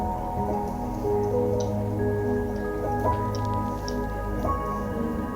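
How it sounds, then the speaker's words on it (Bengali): Raw rui fish is worked by hand with salt and turmeric, giving soft wet squishing and dripping sounds close up and fairly quiet, with no talking. "নুন আর হলুদ দিয়ে এখন আমি মাছটাকে মেখে নেব।"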